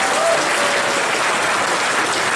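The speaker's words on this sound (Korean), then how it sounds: "유미 씨가 다시 한번 큰 박수 부탁드리겠습니다" Loud, dense audience applause at a talk concert and fan meeting, a continuous wash of clapping at an even level with no voices over it.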